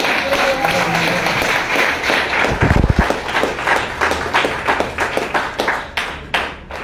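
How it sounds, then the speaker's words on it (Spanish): A church congregation claps hands during a Spanish-language sermon, rhythmic sharp claps building and continuing in a steady beat, with a brief low thump and some crowd noise underneath. "Dale fuerte palmas al Señor."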